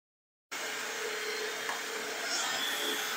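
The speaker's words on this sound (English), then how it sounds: "Now I will turn the dust collection on, turn the router on, and we'll go ahead and go all the way across one time." After a moment of silence, dust collection and a router on an Onefinity CNC machine flattening a live edge wood slab switch on at once and settle into a steady, loud, even whine and rush that holds unchanged.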